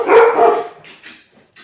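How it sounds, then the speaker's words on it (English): Dogs barking in a short burst, with one loud, close bark followed by a few fainter yips and whimpers as the sound dies away. "she's gonna mute until the dogs have finished having a little chat"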